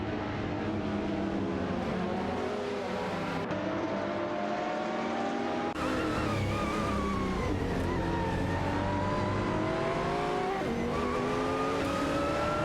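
Race cars, including a Ferrari F430 GTC and a Dodge Viper GT2cc, scream around the track in a racing video game, overlapping engine whines rising and falling in pitch with constant loud drive.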